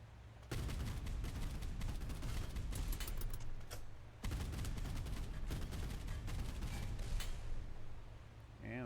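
A warship's guns fire in a naval combat game, forming two long, loud bursts of rapid, overlapping shots with a brief gap between them, then tapering off.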